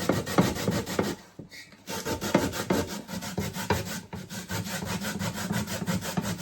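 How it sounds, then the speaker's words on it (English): Sweet potato is grated by hand on a grater in a rapid rasping back-and-forth rhythm, close and loud, with one short pause partway through. "Time to grate it the old time way."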